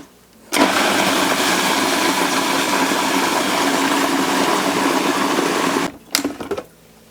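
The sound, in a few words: food processor blending garden vegetables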